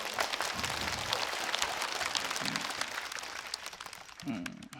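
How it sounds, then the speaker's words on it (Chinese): Applause from a live stand-up comedy audience, a dense patter of clapping throughout, with the comedian's voice breaking through now and then. "你一鼓掌我就忘词了"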